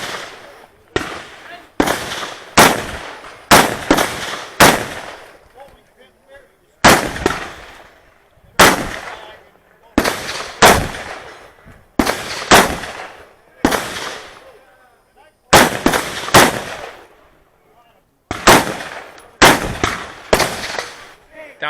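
Rifle shots crack one after another at an outdoor shooting range during an action rifle run, coming in quick groups of two to four loud, sharp reports separated by brief pauses.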